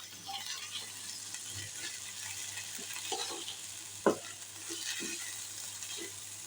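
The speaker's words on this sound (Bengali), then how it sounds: "দেখেন মশলাটা, আদা রসুনটা ভাজা হয়ে গেছে।" Ginger and garlic frying in a pan for a prawn bhuna, a steady soft sizzle with scattered scrapes of stirring and one sharp knock partway through.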